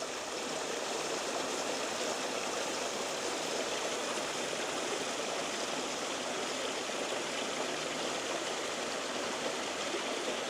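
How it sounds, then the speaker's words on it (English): A stream of running water rushes steadily and fairly close, a dense, even wash of flowing water with no pauses and no voices. "just to listen to the birds and the running water"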